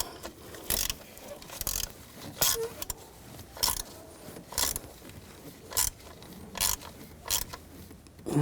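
Ratcheting clicks in short bursts as a screw is tightened down on an engine intake pipe of a 2004-2009 Audi A4 Quattro 2.0L I4, close and moderately loud, with no talking.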